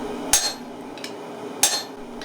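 Two sharp, ringing hammer blows land on a cutting axe driven into a layered steel billet resting on an anvil, spaced about a second apart, with a fainter tap between them.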